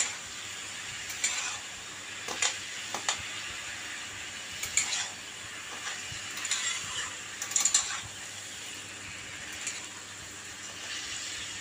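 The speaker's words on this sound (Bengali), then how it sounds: "এইবার এই মশলাটা পুরো লাউয়ের সাথে মেশাচ্ছি" Spice mix stirred into bottle gourd with shrimp in a pan: scattered metallic spatula scrapes and clicks over a low steady hiss, irregularly spaced and moderately close, with no voices.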